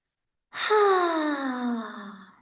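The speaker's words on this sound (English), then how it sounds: "taking a deep inhale, opening the mouth and exhale" A single long, audible open-mouth exhale during yoga breathing, a breathy sigh that starts abruptly, falls steadily in pitch and fades over about two seconds, close and alone with no talk.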